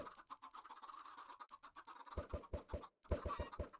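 Chickens in the video game Minecraft make rapid, overlapping clucks and scratchy fluttering sounds, with a string of punchy low thumps toward the end.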